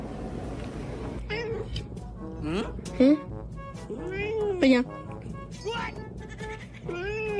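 A cat meows repeatedly for a treat, rising, drawn-out cries between a woman's close-up chatter, the two voices alternating over several seconds.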